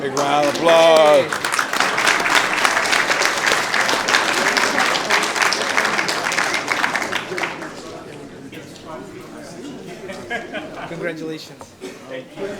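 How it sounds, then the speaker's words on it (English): Applause fills a city council chamber, a loud burst of many hands clapping together that holds for several seconds before thinning out into scattered claps and murmured voices. "Big round of applause."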